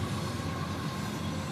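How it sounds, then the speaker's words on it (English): A train passes through, a steady rumbling roar of rail cars that holds evenly through the moment with no talking over it. "And Granny Sanders got a train coming through."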